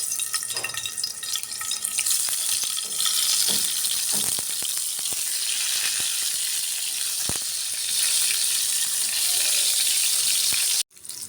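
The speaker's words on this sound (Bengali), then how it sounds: "তেল দিয়ে দিলাম, এখন বেগুনগুলো ভেজে নেব।" Eggplant slices fry in hot oil, giving a close, bright, continuous hiss with occasional crackles and clicks; the sizzle runs unbroken until it cuts off abruptly near the end.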